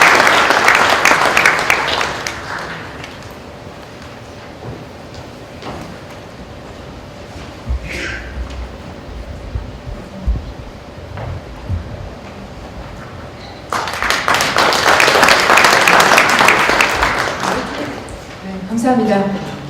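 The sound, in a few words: audience applause welcoming a speaker to the podium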